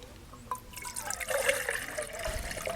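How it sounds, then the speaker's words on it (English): Water pours and trickles into a JetBoil cooking pot, a close gurgling fill that grows fuller as it continues for a couple of seconds. "So we're going to go ahead and fill this thing up, put 2 cups of water in it"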